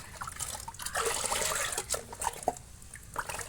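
Water splashes and sloshes continuously for a few seconds as fertilizer is diluted in a bucket for jasmine plants, with pouring and stirring sounds up close, occasional drips and clinks standing out.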